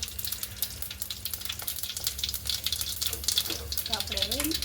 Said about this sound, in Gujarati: આપણે તેલ અને એમાં લાલ મરચું એડ કર્યું છે, અને હવે એમાં રાઈ જીરું